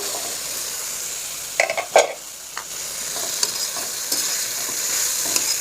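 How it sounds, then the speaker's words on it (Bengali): Cauliflower goes into a pan of spices already frying in oil, giving a steady close sizzle broken by a few sharp clattering stirs and scrapes, with no voices. "এই সময় ফুলকপি দিয়ে দেব।"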